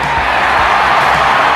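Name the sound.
baseball crowd roaring, sound effect in a radio ad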